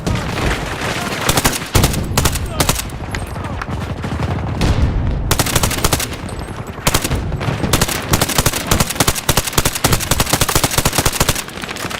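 Rapid automatic gunfire rattles loudly and almost without pause in the video game Battlefield 2042, bursts overlapping with heavier booms and bangs throughout the mix.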